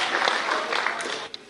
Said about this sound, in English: let's give each other, in fact all of you, a huge round of applause